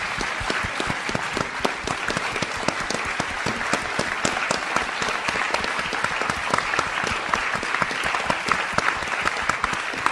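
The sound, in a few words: audience round of applause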